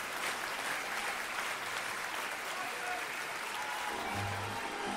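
Sustained applause from a large audience giving a standing ovation after a concert at Carnegie Hall, dense steady clapping filling the room with no pauses.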